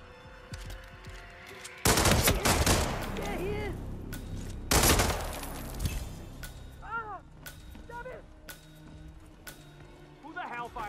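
Gunfire on Ambrose Island in the Hitman 3 video game, with two heavy bursts of shots a few seconds apart and scattered single cracks between them, set against tense background sounds and bird-like chirps while someone speaks.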